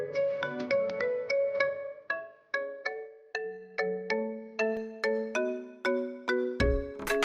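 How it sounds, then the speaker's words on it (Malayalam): A mobile phone ringtone sounds for an incoming call, a repeating chiming melody of bright electronic notes in regular pulses, clear and alone, with a soft thump near the end. "അമ്മ കോൾ ചെയ്യാണ്."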